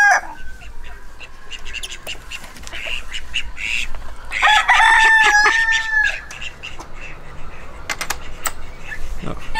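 An Ancona rooster crows loudly and close by in a breeding pen, a long drawn-out call in the middle, while hens cluck and other birds chirp around it.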